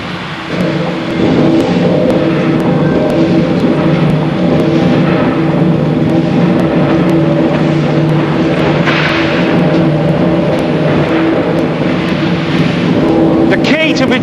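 A huge 12,000 horsepower engine driving a Sheffield steel rolling mill gives a loud, steady, deep mechanical roar with sustained droning tones that holds throughout, with a voice speaking over it.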